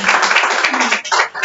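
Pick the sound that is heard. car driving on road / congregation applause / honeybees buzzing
congregation applause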